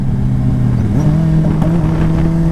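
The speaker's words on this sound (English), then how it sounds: "I'm gonna try a first gear hit when we get around this bend and see what it does" A turbocharged Suzuki Hayabusa making about 300 horsepower pulls hard in first gear on a road bend, its engine note loud, close and steady, climbing in pitch as it accelerates, with no talking.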